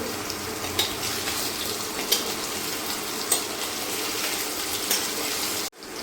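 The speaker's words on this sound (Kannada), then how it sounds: "ಈ ಥರ ಸ್ವಲ್ಪ ಫ್ರೈ ಮಾಡ್ಕೋಬೇಕು" Paneer cubes frying in oil in a pan, a steady close sizzle with periodic clinks and scrapes of a spoon, ending in an abrupt cut.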